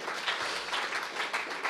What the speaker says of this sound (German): Lass uns ihnen doch mal einen Applaus geben